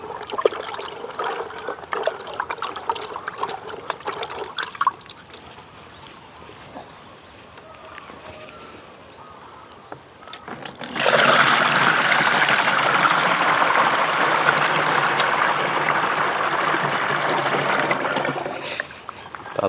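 Mixed liquid fertilizer poured from a tub into a watering tank for watermelon plants, a steady loud gush of splashing liquid filling the tank, preceded by softer trickling and handling noises.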